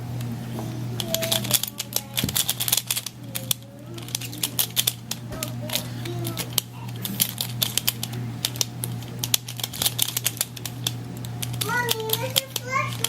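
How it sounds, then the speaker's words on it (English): A magnetic Pyraminx pyramid puzzle being twisted, giving dense, rapid, crisp clicks in irregular bursts throughout, close up, while a voice chatters in the background over a steady low hum. "you can hear a lot of clicking, and it's because there are actually magnets in it"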